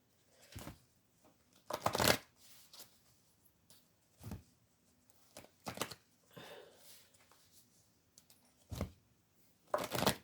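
Angel cards are shuffled in several quick bursts, riffling and slapping close by with short pauses between, and no voices are heard.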